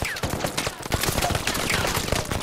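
Heavy rapid gunfire from Uncharted 4 multiplayer team deathmatch, dense overlapping automatic bursts and shots that run loud and continuous throughout.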